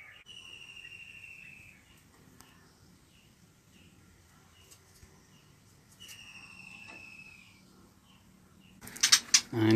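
A white-rumped shama breeding bird in a captive breeding setup gives two drawn-out whistled notes several seconds apart, faint and slightly distant against a quiet background, followed by a louder burst of rustling and knocking at the end.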